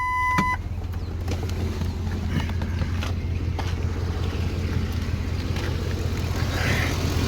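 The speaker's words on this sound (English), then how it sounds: "The engine is purring" A 2005 Ford F-150 with a new engine idles steadily and loudly up close, a smooth continuous hum with faint ticking and some wind noise over the microphone.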